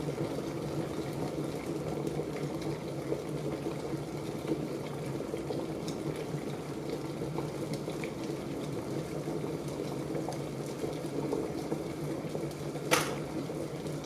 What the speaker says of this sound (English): the water has come to a complete boil. It's boiling away